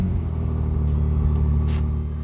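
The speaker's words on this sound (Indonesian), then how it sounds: "Ini udah kita nyalain mesinnya," A Ferrari 296 GTS engine idles close by, a steady deep rumble with a smooth throbbing tone and no revving, heard alone.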